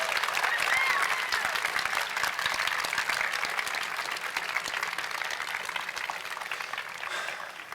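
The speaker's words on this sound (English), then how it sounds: "So please give, if you would, one more time, your supporters a round of applause for all they've given you these last years." Graduation audience applauding in a large hall at a high school commencement, a steady dense wash of clapping that holds at an even level throughout without any voices.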